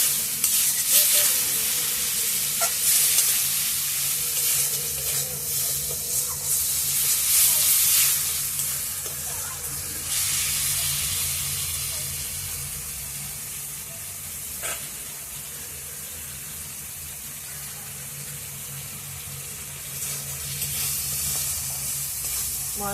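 Spice paste frying in oil in a village kitchen for a snakehead fish curry with potato and cauliflower, a steady close sizzle with bright hiss and occasional stirring scrapes, softening toward the end.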